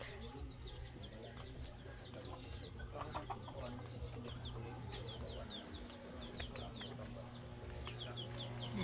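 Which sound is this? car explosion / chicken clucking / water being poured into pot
chicken clucking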